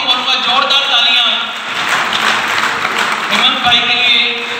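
Hearty applause rises from the audience at a Teachers Day honour ceremony at IIU University, a broad wash of clapping swelling in the middle while a voice carries on over it.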